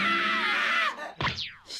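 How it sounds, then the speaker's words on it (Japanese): A loud, sustained scream in an anime scene, a strained wailing voice for nearly a second, then a short gasp and a sliding high-pitched shriek trailing off. "人の顔を見て悲鳴を上げるとは失敬な"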